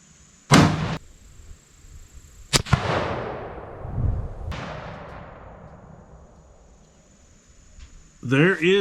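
A .257 Weatherby Magnum rifle fires three sharp, loud shots spaced a couple of seconds apart, each followed by a long decaying echo outdoors, then a voice speaks at the end.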